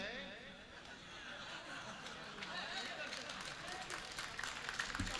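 An audience at a Hindi poetry recital claps steadily, building slightly toward the end, with some laughter mixed into the applause.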